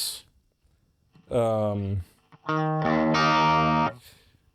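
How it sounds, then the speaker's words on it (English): Guitar through a Digitech FreqOut feedback pedal: two loud, close sustained notes, the second swelling into a bright, singing overtone that holds steadily before cutting off, with short gaps of near silence around them. "the Digitech FreqOut, which gives you feedback."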